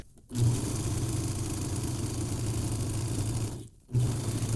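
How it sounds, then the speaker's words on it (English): Overlocker stitching the inner leg seam of sewn shorts, a close, steady mechanical whirring run that stops briefly and then starts again. "then we're going to overlock the inner leg seam"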